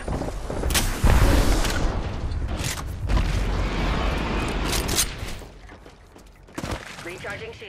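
Gunfire in the Apex Legends battle royale, heavy booming shots and sharp cracks in close, loud bursts mixed with mechanical clatter, and a voice speaks over part of it.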